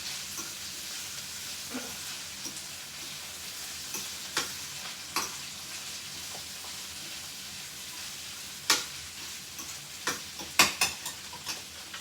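Turnip greens sauté in a pan with a soft, steady sizzle, broken by occasional scrapes and clicks of a utensil stirring, fairly quiet throughout.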